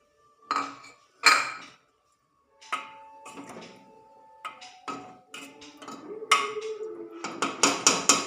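Several sharp clinks and knocks of four eggs dropped into a pressure cooker, irregular at first, then a quick run of clatters near the end.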